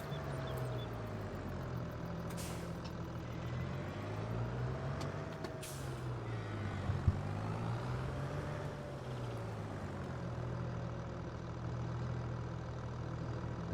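Tractor engine in the Silverrun Forest farming video game, a steady low drone running continuously throughout with faint brief hissing bursts, no talk over it.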